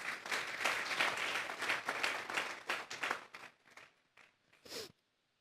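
Church congregation applauding during a sermon, a loud sustained burst of clapping that thins out into a few scattered claps before stopping.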